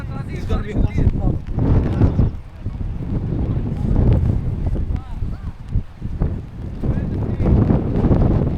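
Wind buffets an outdoor microphone at a cricket match, a steady low rumble of gusts running throughout with voices talking over it.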